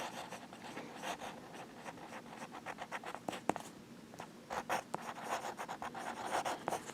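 A fountain pen with a medium nib and Platinum ink scratches across paper, soft close-up strokes in an uneven, continuous rhythm, quiet and without talk.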